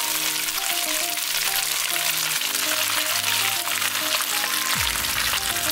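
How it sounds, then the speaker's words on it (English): Carrot, green pepper and black fungus stir-fry with shredded pork over high heat, giving a loud, continuous sizzle with a tool scraping and stirring in the pan, close up and with no voices. "I'm gonna stir fry this for about 2 minutes with high heat"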